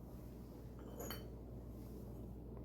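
A single brief clink comes from an intact antique glass ashtray, heard faintly against a quiet, steady background hiss.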